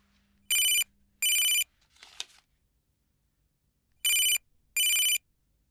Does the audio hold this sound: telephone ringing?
yes